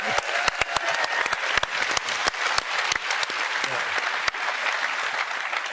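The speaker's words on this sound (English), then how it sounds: "Come out and get a burst of applause now" A burst of applause rings out at a memorial gathering for a man called the Chieftain, dense clapping from an audience with sharp individual claps standing out, continuous from start to end.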